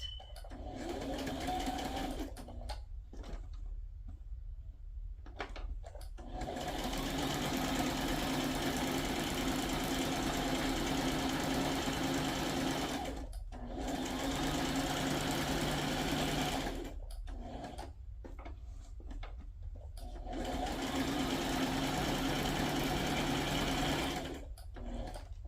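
A sewing machine runs a straight stitch on handmade journal tags, a steady close mechanical whirr that stops and restarts in several bursts with brief pauses between.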